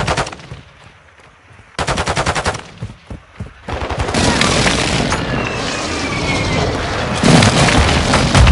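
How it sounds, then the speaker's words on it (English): In Call of Duty Warzone 2.0, an airstrike hits with a run of heavy, close explosions and booms, mixed with bursts of machine-gun fire. Quieter stretches give way to dense, continuous blasts, and a faint game voice sits underneath. "Friendly airstrike in the AO."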